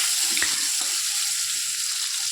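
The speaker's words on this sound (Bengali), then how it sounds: "আলুগুলো ভেজে নিচ্ছি।" Potatoes frying in hot oil in a kadai for a chicken kosha, a soft continuous sizzle close by with a couple of faint clinks early on, no talking.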